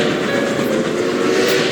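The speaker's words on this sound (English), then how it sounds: "Emerging from the final tunnel, the train continues its journey towards the enchanting city of Venice." A train rolls steadily through mountain tunnels, a continuous loud rumble and clatter of wheels on rails with no voices.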